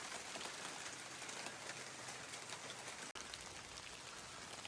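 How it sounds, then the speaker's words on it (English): Steady rain patters on leaves and ground along a forest hiking trail in Red River Gorge, a dense even hiss with no voices and one brief dropout. "Taking a break, getting out of the rain for a minute."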